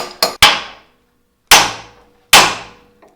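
Hammer blows strike a suspension part on a Chevy 1500 pickup during a 4-inch lift install: two quick metallic hits, then two more spaced about a second apart, loud and ringing, with no talk.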